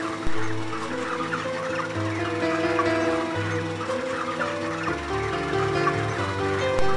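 Broiler hens crowded together during weighing, a continuous dense chorus of clucks and low warbling calls at close range, steady in loudness throughout.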